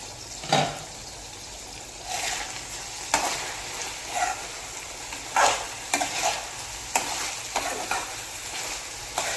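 Chicken or mutton liver fry with tomato sizzles in a pan while being stirred, with repeated scraping and clanking strokes over a continuous frying hiss; no voices.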